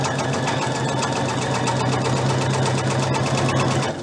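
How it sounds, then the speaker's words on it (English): A sewing machine runs a regular straight stitch along a fabric edge at a quarter-inch seam allowance while making a belt and dress, a steady close motor whir with fast even needle chatter that continues throughout. "So I'm just going to stitch along the edge."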